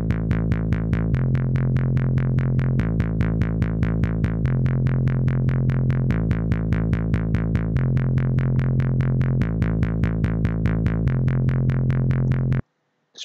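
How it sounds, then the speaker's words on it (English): A synth bass pedals steadily on two alternating notes in a rapid, even pulse, loud and sustained until it cuts off abruptly near the end. "The synth bass sound I've got on this is absolutely fantastic."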